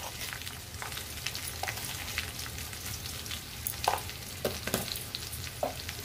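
Cumin and turmeric powder are stirred and fried in a pan, giving a soft steady sizzle with several sharp scraping and tapping strokes from the stirring utensil. The sound is quiet and close, with no talk.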